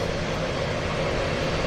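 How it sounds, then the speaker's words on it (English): Floatplane engines droning steadily at Vancouver Harbour floatbase, a continuous loud engine roar with no pauses. "I hear engines."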